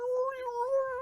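A pet cat caterwauls indoors, a sustained, wavering, tonal yowl held steadily at moderate volume, close by and with no talk over it.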